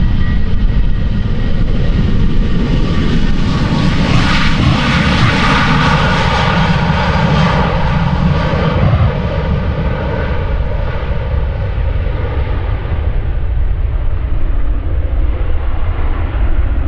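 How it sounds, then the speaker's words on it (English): A KLM Boeing 737 departs from runway 36L at Amsterdam Schiphol, its jet engines roaring loudly as it passes nearby, the roar swelling and then easing into a sustained rumble with a whining tone. "Meanwhile, the KLM 737 is departing."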